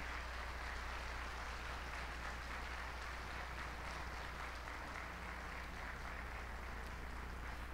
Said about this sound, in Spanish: La iglesia te da la bienvenida con este caluroso aplauso.